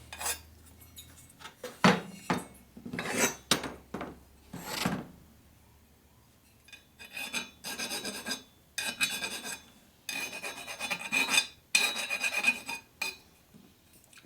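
Metal file rasping in repeated strokes across the sharp edges of a junk Harley shovelhead engine case being repaired, the scraping bursts loud and close with short pauses between them.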